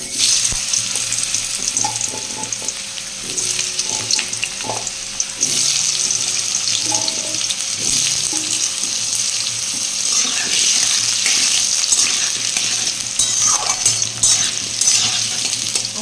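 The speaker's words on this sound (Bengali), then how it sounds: "আলুগুলো আমি লাল লাল করে ভেজে নেব।" Potatoes fry in hot oil with cumin and bay leaves for a jackfruit dish, a loud continuous sizzle that swells after a few seconds, with faint stirring clatter and no voices.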